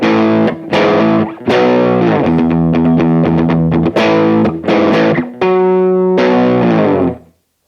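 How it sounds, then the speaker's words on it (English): An electric guitar played through a Boss DF-2 Super Feedbacker and Distortion pedal with the Keeley mod, tone rolled fully off and distortion low. Loud, thick sustained chords and notes ring out alone, broken by brief gaps, with the last chord fading out. "That's distortion at about 9 o'clock"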